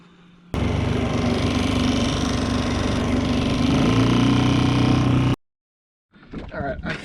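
A small engine starts and runs at a steady idle for about five seconds after an idle speed adjustment, a loud even mid-pitched hum that cuts off abruptly, followed by faint sounds.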